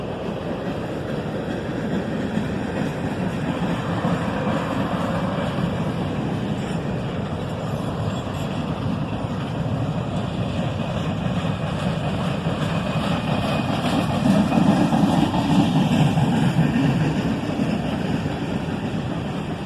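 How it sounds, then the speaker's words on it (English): The Lebanon Mason and Monroe holiday train rumbles at night with a broad, steady rail noise, and a faint, distant locomotive horn rises briefly near the end. "You can faintly hear the horn of the locomotive in the background."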